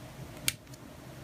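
A single small, sharp snip of hobby cutters clipping a plastic part of a Millennium Falcon model off its sprue, one quick faint click in a quiet room.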